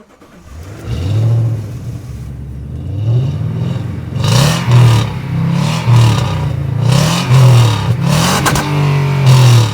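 A Toyota Tundra engine cranks and fires, then is revved repeatedly in loud, close bursts, each rise and fall in pitch separated by a settling idle, with no talk.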